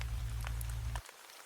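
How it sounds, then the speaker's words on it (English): Steady rain falling outside, a dense, continuous patter over a low rumble that suddenly drops away after about a second, leaving softer scattered drops, fairly loud and close with no talking. "The rain outside roars in my ears like an ocean."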